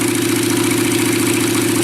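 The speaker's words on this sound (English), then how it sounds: "idling fine now" A motorcycle engine ticks over at a steady, even idle, close and loud throughout, with a low regular pulsing and no voices. The bike had sat for two weeks in the cold and seems down on power.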